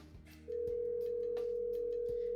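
A phone signals an incoming call with a steady, continuous electronic tone that starts abruptly and holds at an even level against a quiet background.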